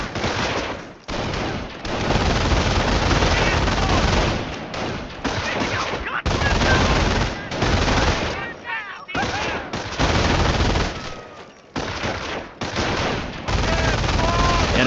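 Sustained bursts of automatic and rifle gunfire in the World War II strategy game Company of Heroes, loud and dense across the whole stretch with brief gaps between volleys, mixed with battle effects.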